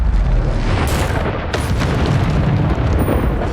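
Bombarda blasting spell going off in the Hogwarts Legacy video game: a loud, sustained rumbling explosion filling the whole moment, with a second burst of crackling debris partway through.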